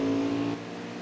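A racing truck engine at Martinsville roars in a short, steady burst, loud and close, with its pitch holding and then dropping slightly partway through; no one speaks.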